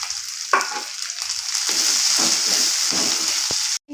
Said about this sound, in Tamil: இப்போ இந்த ஸ்டேஜில் வெங்காயம் சேர்த்து நல்லா வதக்கிக்கலாம்